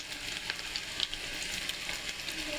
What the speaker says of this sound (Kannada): ಇನ್ನೊಂದು ಸಲ ಎಣ್ಣೆಯಲ್ಲಿ ಕರ್ಕೊತಿದ್ದೀನಿ ನಾನು